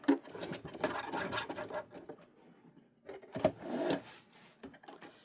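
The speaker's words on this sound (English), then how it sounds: "And back stitch when you're done." Sewing machine running in short bursts as it back stitches along the seam of an unlined tote bag, close and moderately loud with brief pauses between runs.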